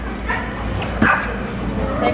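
A small dog yips and whimpers with short high cries over a constant low hum and background noise.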